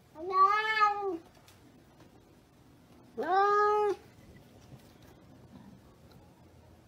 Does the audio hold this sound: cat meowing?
yes